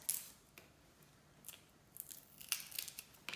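Lemongrass stalks are snipped and cut with a blade, a series of crisp, short fibrous crunches spaced irregularly, quiet and close, with near silence between cuts.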